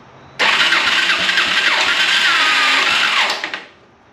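An engine cranks steadily for about three seconds without catching, a loud continuous starter whir that winds down and stops, up close with no talk.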